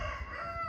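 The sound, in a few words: rooster crowing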